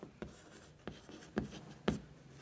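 Chalk or marker writing on a board during a physics lesson, four short scratchy strokes at a steady pace, faint and fairly close, with no talk over them.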